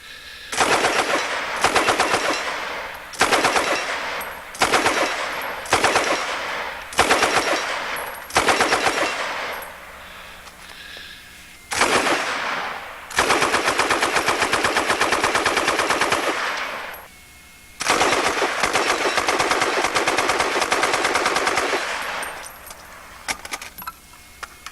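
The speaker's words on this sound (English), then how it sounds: "we're going to watch a real machine gun being shot with tracers" A .303 Bren gun from World War II fires tracer rounds in loud, close bursts of rapid automatic fire, several short strings at first and then two long sustained volleys, with brief pauses between.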